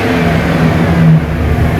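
A 6.8L engine in a 2002 Ford Excursion with a stalling problem revs hard under a throttle snap. The note is loud and steady, with a short rise in pitch partway through before it eases back.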